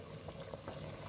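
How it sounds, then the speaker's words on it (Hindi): Water with jaggery melted into it boiling in a pot, a steady close bubbling and simmering that runs without a break, with no voices over it. "पानी को वो उबाल आ गया।"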